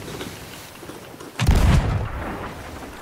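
A cannon fires at an enemy ship during a pirate-ship video game, one loud heavy boom with a rumbling tail that fades over about a second.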